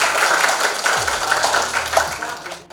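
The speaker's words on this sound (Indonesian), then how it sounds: "tepuk tangan tuh ya." Classroom applause from students during a history lesson, a dense wash of many hands clapping steadily for nearly three seconds before cutting off abruptly.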